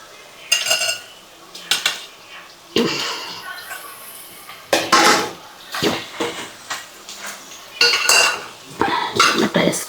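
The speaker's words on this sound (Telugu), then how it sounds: "వేసుకొని బాగా కలబెట్టాలి, పచ్చివాసన పోయేంత వరకు." Curry leaves chicken is stirred with tomatoes added in a pan. A spoon clanks and scrapes against the pan in irregular close bursts, with quieter gaps between them.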